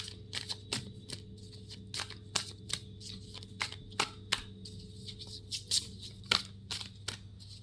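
Oracle cards being drawn and shuffled, a quiet series of irregular crisp flicks and slaps with a steady low hum beneath.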